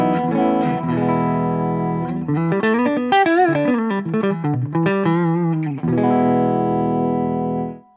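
An Epiphone Jerry Cantrell Les Paul Custom Prophecy electric guitar on its full neck humbucker plays sustained chords with a full, thick tone, then a run of bending single notes, before ringing chords return; loud and upfront.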